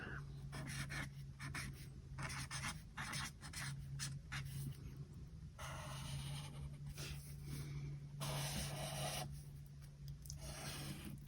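Pen scratching across the pages of a teacher planner in steady close strokes, broken by brief pauses, over a constant low hum in the room.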